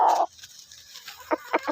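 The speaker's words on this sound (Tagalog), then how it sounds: "Ito ang training ng manok" A fighting rooster being handled during training gives a short loud squawk, then a few brief clucks close by amid quiet handling noise.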